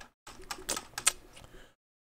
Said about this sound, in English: I hate my keyboard so tiny. Can barely type.